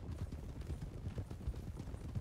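Horses clip-clop in the RedM western game, a steady run of soft, irregular hoof thuds close by with a low rumble underneath and no voices.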